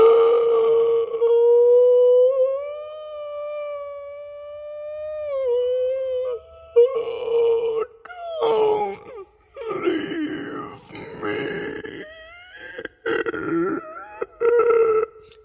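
A human voice imitates a creepy ghost using an inward, inhaled voice: a long, steady moaning tone with a slight wobble, then a series of broken, warbling wails and groaning gasps, close and fairly loud.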